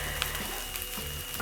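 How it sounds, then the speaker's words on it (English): Onions brown in a frying pan with a soft, even sizzle and faint stirring, quiet and close with no talking. "So my onions are browning."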